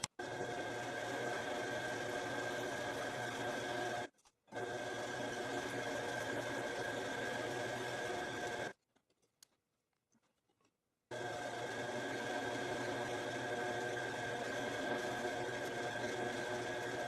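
Machine running continuously while cutting a one-inch follow die for a tubing bender to depth, a steady mechanical drone with one brief dropout and a longer stop before it resumes; fairly quiet and alone.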